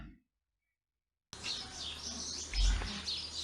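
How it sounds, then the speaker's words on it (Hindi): Busy chirping of several house sparrows perched on a railing in the morning, bright and overlapping, close by, starting after a moment of silence and continuing steadily. "सुबह होते ही गौरैया रेलिंग पर बैठकर अपने खाने का इंतजार कर रही हैं"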